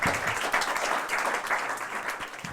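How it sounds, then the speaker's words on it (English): A pitch-event audience at a startup competition in London applauds steadily and fairly close, a continuous wash of many hands clapping for the full couple of seconds with no talk. "Let's give him a round of applause, please."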